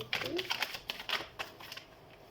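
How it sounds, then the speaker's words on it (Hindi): A deck of tarot cards is shuffled close by in short, soft riffling bursts. Each quick flutter is separated by a brief pause, and no voice is heard. "तो हम कार्ड शफल कर लेते हैं।"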